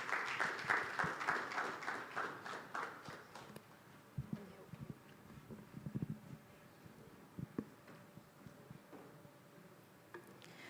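An audience at an education technology demo day claps loudly for a few seconds. The applause then thins out into scattered claps and light knocks over a quiet hall.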